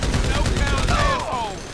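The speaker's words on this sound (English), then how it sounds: "They're coming with the miniguns now." Rapid, sustained minigun fire in GTA V survival gameplay, a dense, loud rattling burst filling the whole moment, with voices briefly audible underneath.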